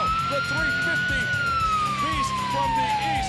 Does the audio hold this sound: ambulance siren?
yes